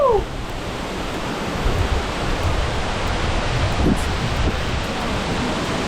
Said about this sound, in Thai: น้ำตกห้วยแก้ว ชั้นบนสุดโคตรใหญ่อลังการ